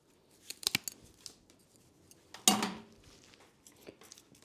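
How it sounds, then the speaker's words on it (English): Pruning shears cut the thick root of a Japanese maple bonsai, giving a few small snips followed by one sharp, loud crunching cut up close, against an otherwise quiet background. "there is a really big root here, so it needs to be removed, but I'm afraid to cut all out."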